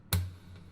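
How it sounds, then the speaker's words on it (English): A single soft knock on a wooden acoustic guitar body, a short tap with a brief low resonant ring that fades quickly. "That's like tapping the guitar."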